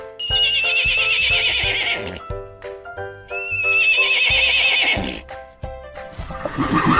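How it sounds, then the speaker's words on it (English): A horse neighs loudly twice in a long, shaky whinny, with a few hoof clip-clops and a steady musical backing underneath. "Horse."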